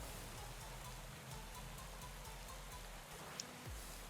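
Steady rain in the cycling video game Pro Cycling Manager 2020, falling during a snowy mountain descent in a Tour de France stage, an even hiss that runs the whole time with a faint low rumble beneath it.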